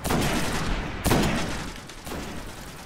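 Sniper rifle shots ring out in Destiny, with two or three sharp, loud reports spaced about a second apart, each trailing off in a short echoing decay.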